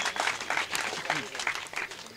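Brief scattered clapping from an audience at a mushaira poetry gathering in Deglur, India, moderately loud, mixed with some voices.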